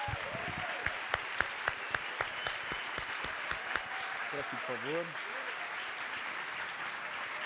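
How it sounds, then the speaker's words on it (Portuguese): An audience at a book fair claps to welcome philosopher Marilena Chaui onstage: dense, sustained applause from a crowd, moderately loud and steady throughout, with a few brief spoken words over it. "Eu peço salva de palmas para Marilena Chaui."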